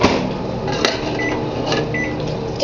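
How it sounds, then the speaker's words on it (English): A microwave oven running as it reheats cold soup, a steady close hum with a brief click or clunk partway through and no talking. "stick it in the microwave"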